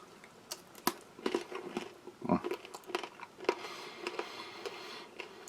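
Crisp crunches from biting into a dry white wheat cracker from an out-of-date Russian army ration pack, a few sharp snaps followed by faint chewing, close and fairly quiet.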